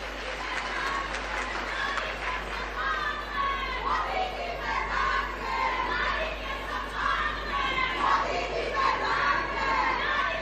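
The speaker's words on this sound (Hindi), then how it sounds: "देखिए, सबसे ज्यादा तालियां हमारी बहनें बजा रही है।" A large crowd at a Narendra Modi rally in Himachal Pradesh keeps up loud, continuous cheering and shouting with high-pitched voices, a dense roar that swells and dips without pause.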